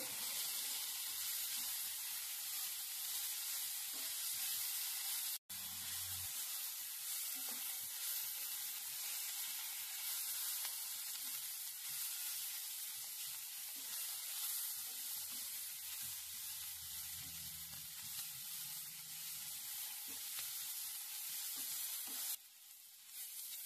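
Onion and capsicum fry in a pan on a gas stove while a pizza is made without an oven, giving a steady, fairly faint sizzle with a brief clatter partway through.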